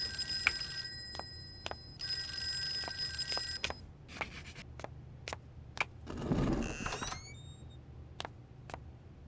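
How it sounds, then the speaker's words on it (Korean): A telephone rings in a horror video game, with repeated bright electronic ring bursts and sharp clicks over a steady low hum, loud and alone. "전화?"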